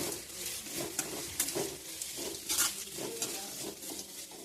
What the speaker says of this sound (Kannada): ಇವಾಗ ನೋಡಿ ಸ್ವಲ್ಪ ಬೆಳ್ಳುಳ್ಳಿ ಸೇರಿಸ್ಕೊತಿದ್ದೀನಿ ಜಜ್ಜಿಬಿಟ್ಟು ಹಾಕಿ ಬೆಳ್ಳುಳ್ಳಿ